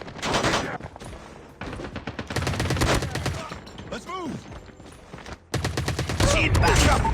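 Rapid automatic gunfire from an AS VAL and ASM rifles rattles through a COD Mobile team deathmatch in dense, loud bursts separated by brief pauses, with game sound effects mixed in.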